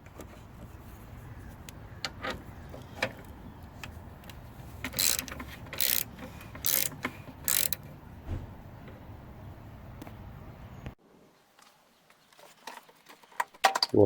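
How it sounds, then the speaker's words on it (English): A 10mm socket ratchet on a few extensions loosens the lower nut of a 2005-2010 Saturn Ion coolant reservoir, giving close, steady runs of small ratcheting clicks with some louder snaps, then a near-silent pause. "I use a 10mm with a few extensions to reach that lower nut. All you gotta do is loosen it a little bit."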